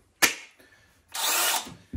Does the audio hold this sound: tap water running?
no